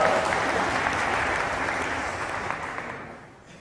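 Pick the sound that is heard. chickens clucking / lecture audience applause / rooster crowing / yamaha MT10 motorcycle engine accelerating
lecture audience applause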